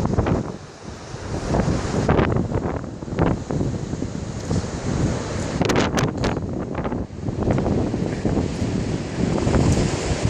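Strong wind of about 100 km/h blasts across a mountain summit, roaring and buffeting the microphone in loud, uneven gusts throughout.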